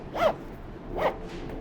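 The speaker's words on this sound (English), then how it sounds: "zip it up" Two quick zipper pulls close a fabric carry case for Dan Clark Audio AEON 2 closed-back planar-magnetic headphones, each a short rising-falling zip with a pause between, close and clear.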